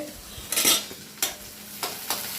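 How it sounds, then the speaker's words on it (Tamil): Oil sizzles steadily in a pan as onions and mustard seeds fry, with a few brief bursts of louder crackle as they are stirred, close and moderately quiet, with no voices. "எண்ணெய் போட்டு கடுகு போட்டுட்டு வெங்காயம் போட்டிருக்கேன்"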